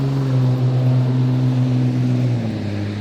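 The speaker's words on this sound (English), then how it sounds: "A lot of noisy vehicles around this neighborhood." Noisy vehicle passing through a residential neighborhood, a steady loud engine drone with a low tone that shifts in pitch near the end as it moves by, heard alone without talk.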